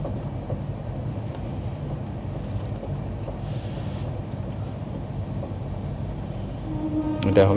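Rajdhani Express passenger train rolling through Aligarh Junction past platform three, a steady loud rumble of wheels on track with wind buffeting, swelling slightly near the end.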